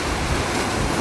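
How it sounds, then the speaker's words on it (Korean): Sea waves surge against rocky shore boulders on a rising tide during rock fishing, a continuous loud churning wash and roar with wind noise, no voices. "시간이 갈수록 수위는 점점 높아지고 파도가 갯바위를 위협하고 있다"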